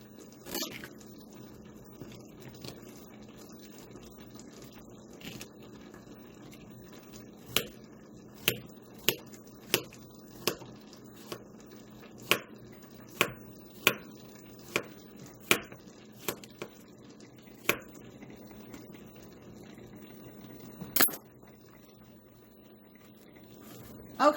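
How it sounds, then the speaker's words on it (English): Food sliced with a knife on a cutting board, a steady series of about a dozen faint, crisp taps spaced roughly a second apart over a quiet kitchen background with no talking. "I'm just going to slice them up just like this."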